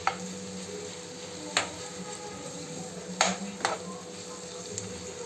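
Tomatoes and onion for chicken sukka masala frying softly in a pan, a faint steady sizzle broken by a few sharp scrapes of a spoon as they are stirred, close by with no talk.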